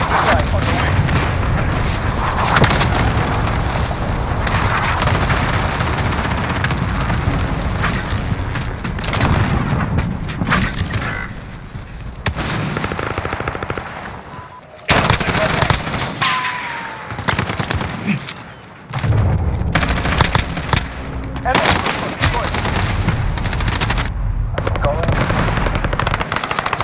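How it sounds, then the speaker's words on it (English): Missile strike explosions and rolling gunfire from Call of Duty Modern Warfare multiplayer, loud and continuous with heavy booms and rapid automatic bursts, briefly dropping out twice before the barrage resumes. "Allied team missile on the way."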